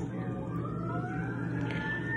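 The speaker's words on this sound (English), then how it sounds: "There's a siren down there." A faint siren wails far off, its rising tone drifting over a steady low background rumble.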